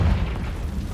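A Confringo spell blast in Hogwarts Legacy, one loud, close, deep boom that hits at once and fades over a second.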